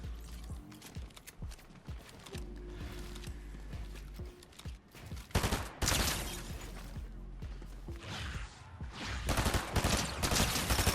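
Rapid bursts of SMG fire with a laser mag in a Fortnite solo cash cup finals match, loud and repeated in quick volleys over mechanical clicks and game effects, no talk.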